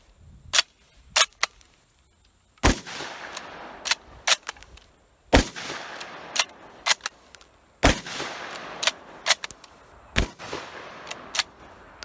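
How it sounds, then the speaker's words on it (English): Sharp, loud rifle shots from a Lee–Enfield Jungle Carbine No. 5 Mk I, about six reports spaced a few seconds apart, each ringing out with a brief echo, mixed with fainter clicks and clatter of the bolt between shots. "Let's take the first shots and see how bad this guy thumps my shoulder."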